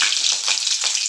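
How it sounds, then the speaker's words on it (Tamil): Mustard seeds and curry leaves sizzle in hot oil for vandakkai podimas, a dense, bright crackle with a few sharper pops, close and steady throughout. "இப்போ வந்து எண்ணெய் ஊற்றியாச்சு, எண்ணெய் காஞ்சிருச்சு. கடுகு போட்டுக்கோங்க, கருவேப்பிலை,"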